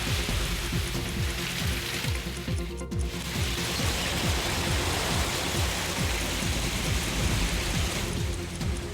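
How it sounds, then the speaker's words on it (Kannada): Heavy rain with hail during a windy storm: a dense, constant roar of downpour with rapid irregular pattering impacts underneath, loud and unbroken for the whole stretch. "ಆಲಿಕಲ್ಲು, ಬಿರುಗಾಳಿ ಸಹಿತ ಭಾರೀ ಮಳೆ ಆಗಿದೆ"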